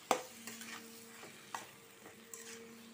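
Cooked macaroni pasta being stirred in a pan, with a few scattered scraping clacks of the spoon over a soft background hum; quiet and close, no talking.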